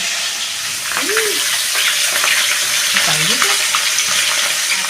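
Pieces of rohu fish from a large five-kilogram fish fry gently in oil with a steady, close sizzle and occasional faint clinks and tonal squeaks.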